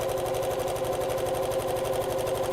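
Sewing machine stitching elastic onto the wrong side of fabric, its needle running in a fast, steady mechanical rhythm that stays close and loud for the whole stretch.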